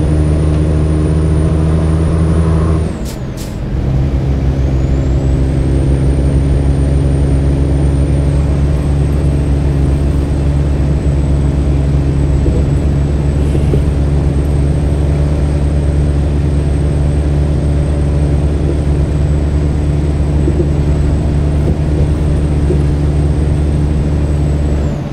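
Freightliner Cascadia truck climbing fully loaded up a mountain pass, its engine holding a loud, steady low drone with a high whine above it, plus a brief dip near the start.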